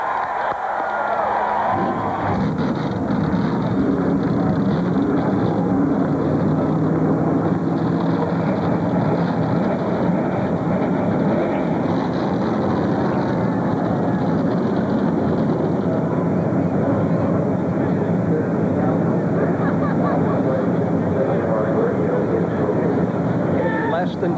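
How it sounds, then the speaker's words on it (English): A crowd roars at Pocono Raceway as 43 NASCAR Winston Cup stock car engines fire up for the 1999 Pennsylvania 500, a dense, loud, sustained rumble that builds after the first couple of seconds. "Gentlemen, start your engines."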